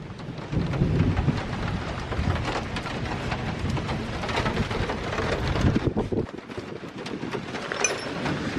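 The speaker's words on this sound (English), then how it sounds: "It's raining" Steady rain and rolling thunder from a thunderstorm, with gusts of wind buffeting the microphone, continuous and fairly loud throughout.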